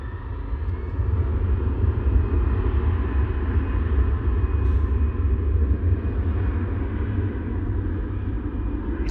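EasyJet Airbus A320 departing Manchester Airport for Berlin, a steady low roar of jet engines at moderate distance, swelling slightly and holding for several seconds.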